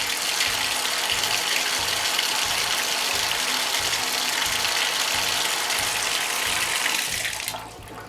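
A Ryobi 18-Volt ONE+ P4001 cordless drain auger runs steadily with a rhythmic mechanical churning and whirring, close and continuous, then winds down near the end.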